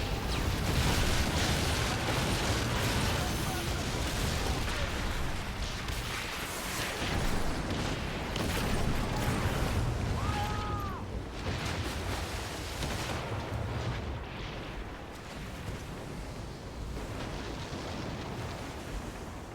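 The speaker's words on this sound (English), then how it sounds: "Answer her with cannon fire!" Cannon fire in the naval video game Skull and Bones, a dense rumbling barrage of booms mixed with crashing sea noise, loud and continuous throughout.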